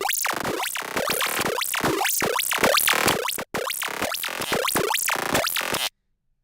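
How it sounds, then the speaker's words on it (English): Rapid stuttering FM glitch sample triggered in Ableton's Simpler, a string of sharp bright bursts with sweeping pitch and metallic buzz, repeating in choppy rhythm before stopping abruptly into silence. "now I add this FM glitch 5 on Simpler"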